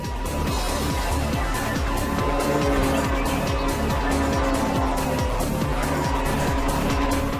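Race cars drift and squeal their tires continuously in the Ridge Racer video game, with steady engine roar and screeching skids filling the whole stretch, loud and dense with no talking.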